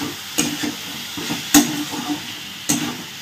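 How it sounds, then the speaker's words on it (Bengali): Spices for chicken curry being stirred and fried in a pan, with a soft sizzle under three sharp scraping strokes spaced about a second apart, close and moderately loud. "আমি শুধুই মশলাটাকে ভালো করে কষাতে থাকবো"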